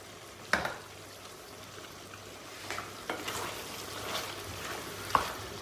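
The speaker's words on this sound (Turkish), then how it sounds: "Şöyle bir karıştırıyoruz." A spoon stirs tomato paste into meat and green beans in a pot, producing a low steady sizzle with a few sharp scraping clicks from the utensil, quiet and close, with no talking.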